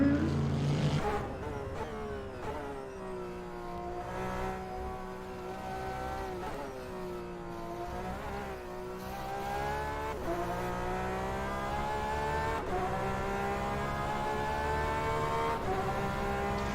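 A 10,000 RPM Porsche flat-six turbo race car engine screams at high revs during a practice session, its pitch sweeping up and down through repeated gear changes, loud and continuous with no voices.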